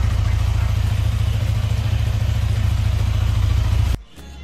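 A motorcycle engine running just after being started, a loud close rapid chugging that holds steady for several seconds, then cuts off abruptly and leaves only faint background noise.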